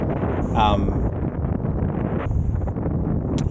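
Strong wind of about 25 knots buffets a sailing yacht at sea, making a continuous, loud rushing roar with gusty rumble across the microphone.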